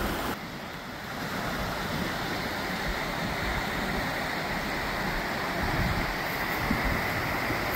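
Spring snowmelt runoff gushes out of a culvert in a continuous loud, close rush of water, with some wind buffeting the microphone.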